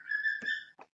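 A pet bird gives a short, clear whistled note followed by a brief chirp, quiet and close, with nothing else around it.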